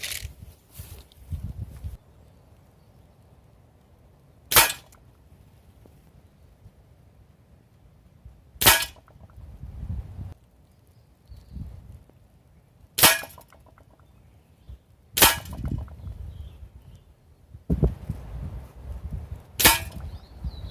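A GAMO Whisper X Swarm air rifle fires pellets at a target, giving five or six sharp, isolated cracks spaced several seconds apart, each followed by faint low handling noise.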